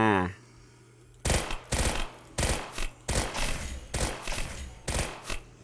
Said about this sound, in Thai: เหมือนเป็นพกแบบพกรัวครับเอายิงรัวได้นะครับ